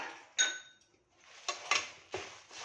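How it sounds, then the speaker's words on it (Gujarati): Puffed rice (mamra) tipped into hot jaggery syrup in a pan on a switched-off gas stove, giving a close metallic clatter and several crisp scraping rattles in bursts, no talking. "આપણે ગેસની ફ્લેમ બંધ કરીશું અને મમરા ઉમેરીશું."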